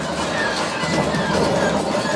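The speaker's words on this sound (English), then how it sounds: "There's the train." A train on a ride at Hollywood Studios rolls past with a steady rumble and rail clatter, loud and continuous for the whole moment, with no voices over it.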